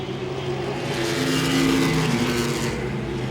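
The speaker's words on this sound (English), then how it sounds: "We get by the 99 backup machine, Brendan Queen behind the wheel" Late model race cars roar around Langley Speedway, a steady loud wash of engines close by with a swelling pass in the middle and no talk over it.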